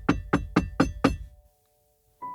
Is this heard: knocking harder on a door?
yes